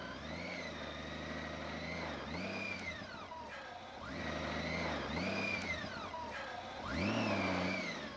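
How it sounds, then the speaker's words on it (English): A big Honda Goldwing motorcycle struggles in sand, its engine revving repeatedly in rising and falling surges over a steady low rumble, fairly close and loud throughout. "the big Honda Goldwing doesn't like playing in sand"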